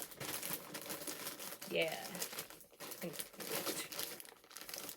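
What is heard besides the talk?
crinkling of packaging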